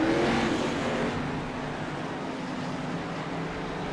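A race car engine held at high throttle, heard from onboard at a California oval, with a loud, steady roar that eases slightly after the first second and then holds.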